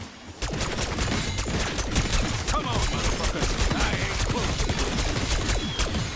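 An AK-74 in the video game Black Ops 6 fires in a dense, loud, continuous fusillade of rapid shots lasting nearly the whole stretch.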